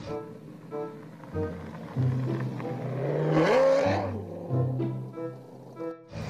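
A toy race car whirs and revs with a synthetic engine sound effect, rising and falling in short bursts, fairly close and with no talk.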